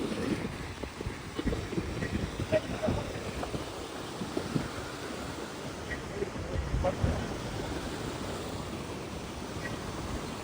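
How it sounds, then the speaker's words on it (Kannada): Water rushing forcefully at a temple site: a steady, dense, moderately loud roar of flowing water throughout, with faint wind noise and no talk. "ಫುಲ್ಲು ಫೋರ್ಸಾಗಿ ಬರ್ತೈತೆ ನೀರು"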